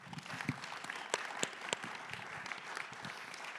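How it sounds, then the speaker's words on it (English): Steady applause from an audience, many hands clapping at once with a few sharper claps standing out, sustained for several seconds without talk. "let's give him a round of applause."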